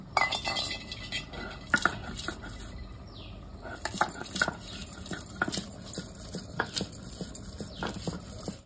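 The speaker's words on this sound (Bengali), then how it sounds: "কিন্তু আমি 5-6টা কাঁচা লঙ্কাও একসাথেই বেটে নেব।" Five or six green chillies, with ginger, are ground on a stone slab in a rural kitchen, giving a steady run of close, knocking and scraping strokes with light clinks between them.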